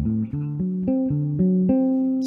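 Bass guitar playing a melodic line from a prelude study piece, a clean sequence of sustained single notes stepping up and down in an even rhythm, close and clear with no talking.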